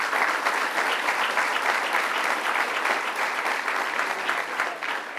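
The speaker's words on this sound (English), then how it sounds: "let's give him a round of applause" Sustained audience applause at a governor's legislation signing event, dense and steady throughout at moderate loudness with no clear break.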